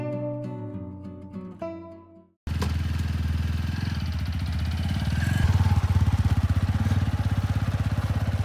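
Motorcycle engine labouring loud and close on a badly broken mountain road near Chatakpur in Darjeeling, a steady throbbing drone that swells toward the end, after a few seconds of people talking over music.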